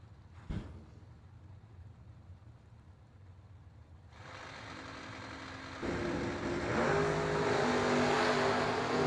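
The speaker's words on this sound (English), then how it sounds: "Nice wheel stand by Brewer, but he's behind on the hit by 16" Drag racing cars, including a Vega GT and a Mustang, launching side by side down the strip at a bracket racing event, engines rising from a distant rumble to a loud, building roar after a sharp bang.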